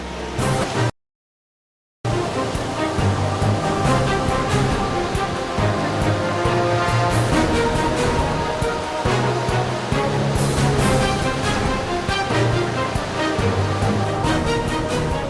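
Pioneer rapid on the Kazhim river roars as a loud, steady wash of rushing whitewater, broken by a brief gap of silence near the start, then continuous churning with surging bursts throughout.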